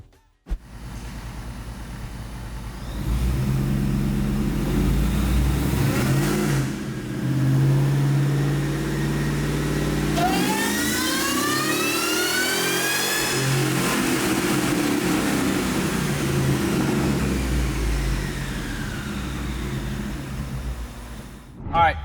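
A 2000 Ford Lightning pickup's engine revs hard on a dyno, a loud sustained pull that climbs in pitch and falls away, with a brief rev near the start and a closing blip, all close and continuous.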